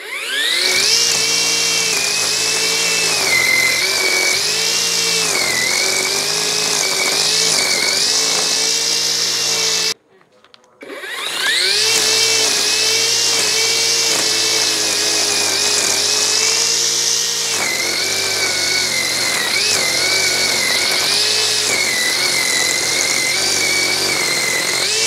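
A grass cutter machine trims grass at home, running with a loud, steady high-pitched whine that breaks off briefly midway and then resumes at full strength.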